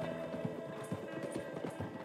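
Horse hooves clip-clopping in Red Dead Redemption 2, a steady rapid run of close, clear hoofbeats over a continuous game background, with no talking.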